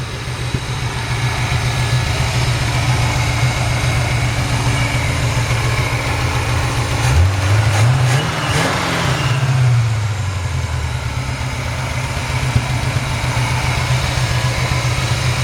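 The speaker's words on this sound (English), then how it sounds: "Nice smooth running engine there." A 1964 Chevrolet C-10 Fleetside pickup truck engine idles steadily and evenly throughout, close by, with a brief rising whine in the middle before settling back to a smooth idle.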